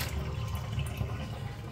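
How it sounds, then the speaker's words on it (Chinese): Water pours steadily into a freshly scrubbed cup, cleaned of tea stains, in a short, close, continuous splashing fill. "倒水"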